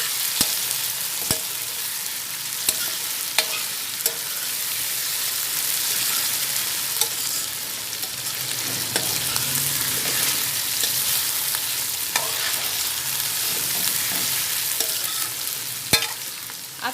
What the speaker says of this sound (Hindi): अदरक लहसुन का पेस्ट डालने के बाद इसको अच्छी तरह से मिक्स कर दें।